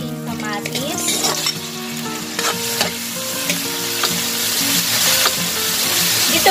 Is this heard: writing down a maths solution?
no